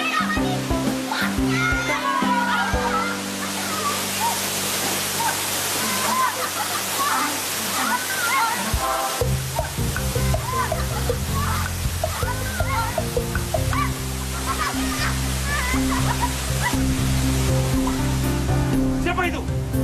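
Clear-water waterfall in an animated children's adventure, a steady rushing splash of falling water running through the whole stretch, loud and close, with music and voices layered over it.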